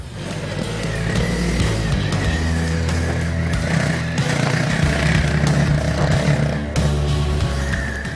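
A 2018 Honda CRF 250 Rally motorcycle ridden hard off-road, its engine a loud, continuous close-up roar that holds steady throughout.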